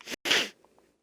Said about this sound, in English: that sneeze was brutal